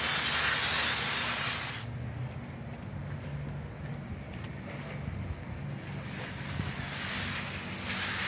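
A spray bottle mists the leaves of an indoor plant, giving a loud burst of hissing spray at the start followed by a softer, steady hiss that rises again near the end.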